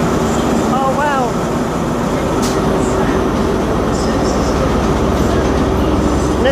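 A Class 43 diesel locomotive roars steadily up close, a dense continuous engine and rail rumble with faint squeals and clicks throughout.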